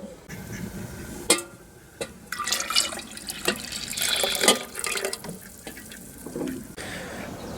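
Milk squirting and dripping as a goat's udder is stripped by hand after a hand pump machine left milk behind, a wet irregular trickle of spurts and drips, close and fairly quiet with no talk.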